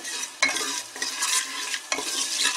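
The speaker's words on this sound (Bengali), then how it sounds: "ফড়নটা দিয়ে আমি জাস্ট এগুলোকে একটু একসঙ্গে নেড়ে নিচ্ছি" Whole spices tempering in hot oil for egg biryani, stirred with a utensil that scrapes and knocks the pot in a few sharp strokes over a constant sizzle, close and clear.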